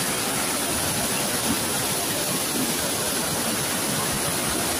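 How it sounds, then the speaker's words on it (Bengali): Bamni Falls in the Ayodhya hills pours in a steady, loud, unbroken rush of water, filling the clip with constant broadband roar and no other sounds. "কয়েকজন ফ্যামিলি স্নান করছে এখানে, আর ফলসটা এখান দিয়ে যাচ্ছে।"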